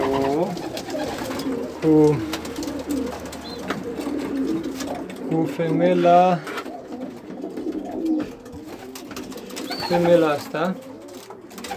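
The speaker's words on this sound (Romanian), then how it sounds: "cei mai buni porumbei ai mei" Pigeons in a loft cooing in soft repeated bursts near the microphone, with someone talking over and between the calls.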